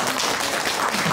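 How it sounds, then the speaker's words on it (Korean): An audience at a music and book concert event applauds, a dense steady patter of clapping filling the whole brief moment. "자, 한번 박수 한번"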